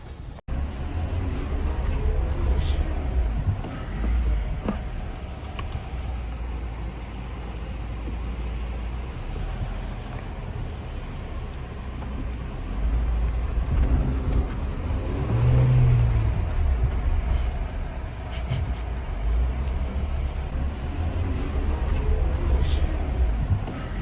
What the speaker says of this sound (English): Finally, driving on some normal road and move to other test.